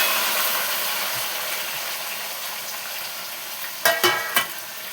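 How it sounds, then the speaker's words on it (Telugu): Onions and tomatoes frying in a hot pan with curry leaves, a steady close sizzle throughout, ending with a few sharp clinks of a utensil against the pan. "ఆనియన్స్ వేస్తున్నాం."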